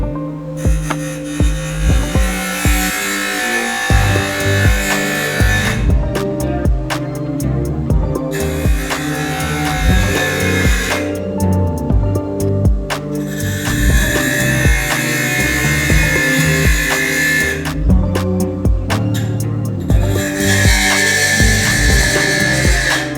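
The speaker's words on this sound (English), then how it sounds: "let's go ahead and grind this thing down so we can go ahead and use it on our project now" Continuous whining grind as a metal reamer is ground down with a grinder, loud and steady, broken by short pauses where the tone drops and picks back up, with a constant hum beneath.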